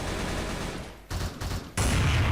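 Dense gunfire from the online shooter Truy Kích in a zombie close-combat mode, a loud continuous burst that briefly drops out and resumes, with no talk over it.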